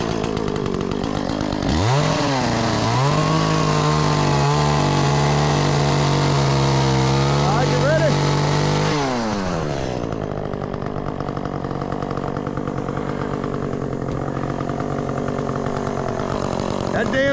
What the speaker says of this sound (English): That damn chainsaw